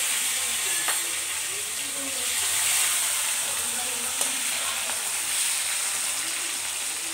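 Tomato goes into hot oil with cardamom, clove and cinnamon in a pan, giving a close, continuous sizzle and hiss. Occasional spatters and stirring clicks break through.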